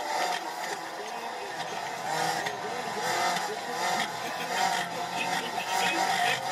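A car's gearbox whining in the Wreckfest racing game: a continuous, fairly loud mechanical whine and engine roar that rises and falls, with a voice talking over it.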